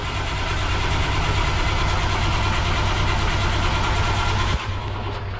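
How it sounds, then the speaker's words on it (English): A boat's diesel engine on a Princess 33 cruiser turns over steadily on its starter motor, a loud continuous churning drone. It drops briefly near the end and then carries on. "The starter motor seems healthier on the starboard one, but turning over nicely."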